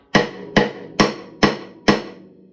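Five evenly spaced drum rim clicks played with the stick butt too close to the rim, each a sharp, bright, thin crack with little body and a short decaying ring, close and loud.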